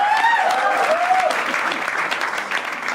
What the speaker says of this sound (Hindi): बस एक बार जोरदार तालियां